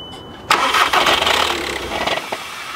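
A car engine cranks and catches with a loud burst, then revs unevenly before settling, close by with no voices.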